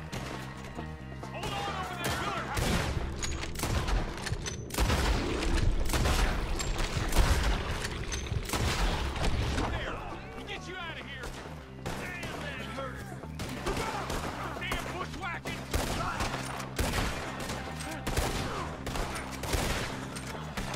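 Dense, sustained gunfire from Red Dead Redemption 2 rattles on without pause for twenty seconds, with rapid shots, crashes and impacts layered over a game score, and voices talking in between.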